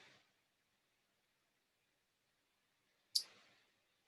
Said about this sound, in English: just clicking back.